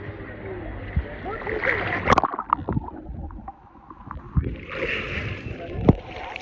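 People bathing in the Shivganga river during a Kanwar pilgrimage, with repeated close water splashes and sloshing, a sharp splash burst near the middle and more later, under a steady outdoor murmur of voices.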